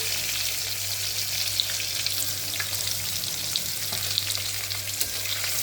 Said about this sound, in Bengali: ডিমগুলো হালকা করে ভাজাবো আমি